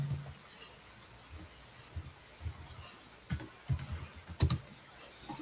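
Soft keystrokes on a computer keyboard while writing Python code, faint scattered taps that grow into a busier, slightly louder cluster toward the end.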